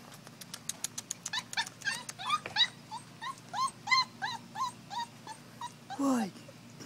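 A puppy whimpers and yips in a quick string of high, squeaky cries, close up, ending in a drawn-out whine.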